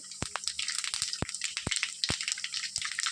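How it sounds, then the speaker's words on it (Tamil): Mustard and fennel seeds pop and crackle in a little hot oil in a pan, with scattered sharp bursts over a steady sizzling hiss, close up and with no voices. "கடாயில் கொஞ்சமாக ஆயில் விட்டு கொஞ்சம் கடுகு சோம்பு தாளிச்சுக்கிறேன் கடுகு சோம்பெல்லாம் நல்லா பொறிஞ்சு வந்த பிறகு"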